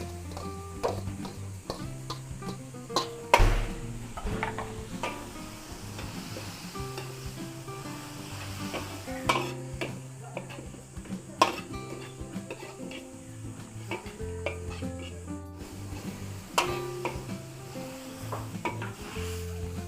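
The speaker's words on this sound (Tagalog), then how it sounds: "Hulog po natin yung gulay at ating stir fry." Vegetables are stir-fried in a pan, with steady sizzling broken by repeated sharp clacks and scrapes of a utensil against the pan, close and clear.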